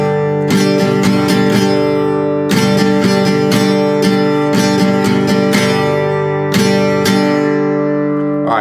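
Rhythm guitar plays a bar pattern mixing quarter, eighth and sixteenth notes, loud and close with no talk. Sharp strummed attacks come in clusters, with sustained chords ringing between them.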